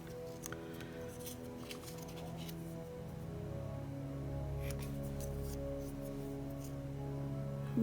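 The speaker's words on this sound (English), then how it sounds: "And we'll just take our scissors" Scissors snip paper while a Father's Day card is trimmed with a masked-letters watercolor technique, giving a few short, faint cuts over a steady low hum.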